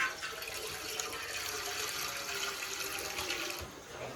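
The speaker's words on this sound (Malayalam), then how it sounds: "അപ്പോൾ ഒരു 1/2 ജഗ് വെള്ളം ഒഴിച്ച് കൊടുക്കുന്നുണ്ട്." Water from a half-full jug pours steadily into a cooking pot in a home kitchen, a continuous close splashing rush that runs without pause for about four seconds before easing slightly at the end.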